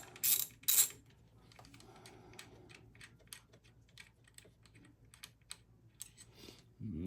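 A 10mm ratchet working bolts on a Fiat 500c gives a soft run of quick, light clicking, after two brief louder clatters at the start; the whole clip is fairly quiet.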